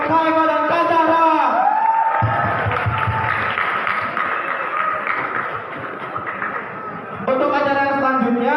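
Student audience applauds at a literacy event at SMAN 96 Jakarta, a loud burst of clapping and crowd noise for about five seconds, framed by a speaker talking before and after.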